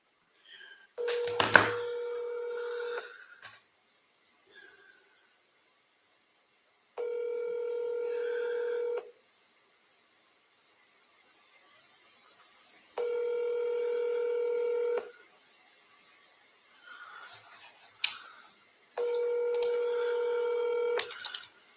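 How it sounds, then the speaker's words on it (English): Mobile phone dialing: a quick burst of keypad tones followed by three evenly spaced electronic ringback tones, each about two seconds long, with short gaps of quiet between them, clear and close with no talking. "I'm going to call him from my cell phone."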